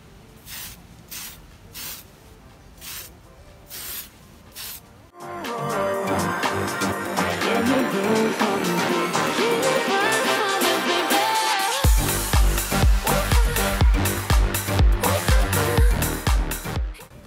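Spray paint can applying smoke-coloured paint onto an RC drift car body outdoors, with a few short bursts first, then long, loud, close hissing sprays running one after another.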